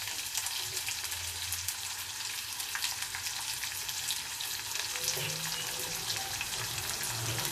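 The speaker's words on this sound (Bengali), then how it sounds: "পেঁয়াজ আর কাঁচা লঙ্কা কুচো একসঙ্গে দিয়ে দেবো।" Chopped onions and green chillies drop into hot oil with curry leaves for a tempering, making a loud continuous crackling sizzle close by, with a few faint stirring knocks and no talk.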